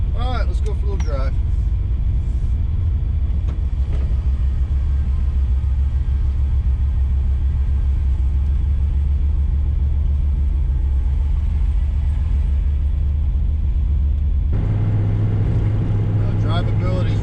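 A Ford Capri on 28-inch Racemaster tires drives along with a steady low engine and road rumble throughout, the note shifting to a deeper, heavier drone near the end, while a person talks over it.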